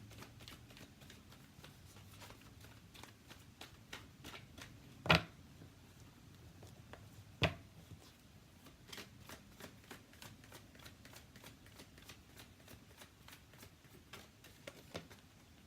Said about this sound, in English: let me pull you a romance angel card